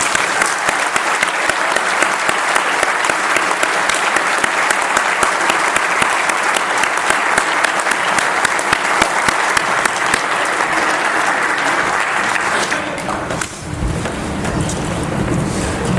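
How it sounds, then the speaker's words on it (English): Sustained applause from a luncheon audience at a police awards ceremony, dense steady clapping for about thirteen seconds before thinning out and fading near the end. "please join me in a round of applause for all of our award recipients this afternoon"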